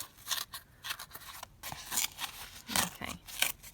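Recycled cardboard packaging torn by hand, a run of close, crisp ripping and crunching bursts that come in uneven strokes, loud and alone with no voice over them.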